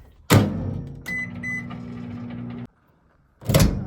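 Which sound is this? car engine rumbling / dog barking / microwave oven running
microwave oven running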